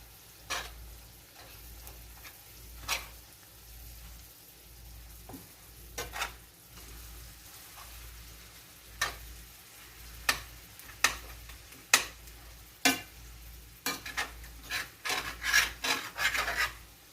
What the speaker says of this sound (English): Get that chorizo mixed in there.